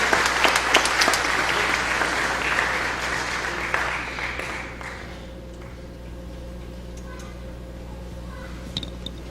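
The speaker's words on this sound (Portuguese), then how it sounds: "Uma salva de palmas ao Dalmo, que ele é merecedor de todo o noss" Audience applause at a solemn session of the state legislature marking Portugal Day, loud and dense at first, then thinning and fading over the second half, with a faint steady hum beneath.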